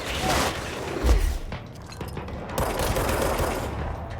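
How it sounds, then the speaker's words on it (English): Bombs exploding in the video game Control, heard as a dense burst of blasts and rapid cracking gunfire-like bangs, loud and close, with a deep thump near the start. "Let's activate these little bombs."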